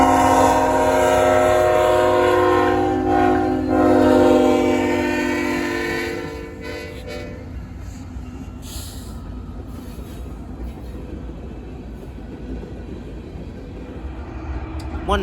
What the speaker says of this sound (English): Kansas City Southern leading a CN SD70 Ace and a City Rail unit.